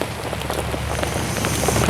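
Steady rain patters on a tent and tarp at a campsite while a dining fly is pitched, a dense, even hiss of drops with faint low rumble underneath and no voices.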